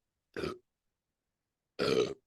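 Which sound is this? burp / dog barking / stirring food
burp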